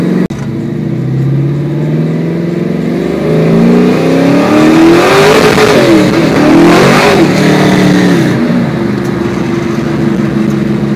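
A car fitted with a TMP Carbs venturiless carburetor revs hard and loud, its engine note sweeping up and down in pitch over several seconds, close to the listener and steady throughout with no talking.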